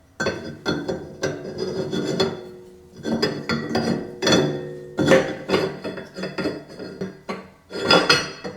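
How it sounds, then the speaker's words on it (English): Metal auger sliding and clunking into the housing of a Valley Sportsman #32 meat grinder, a series of close scraping, rattling metallic knocks in irregular bursts, with no talking. "Then you're going to take the auger and you're going to slide it in here."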